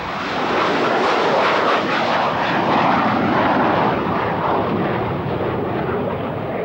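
A loud, steady roar of super jumbo jet engines, broadband and continuous, with no voices, like a large airliner passing close overhead.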